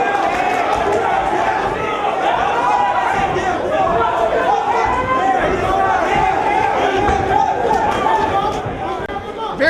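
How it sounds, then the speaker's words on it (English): A large crowd at an amateur Golden Gloves boxing finals match in a downtown Cleveland college building chatters, shouts and cheers continuously, a dense, loud wall of voices throughout. "Very good crowd here supporting these boxers"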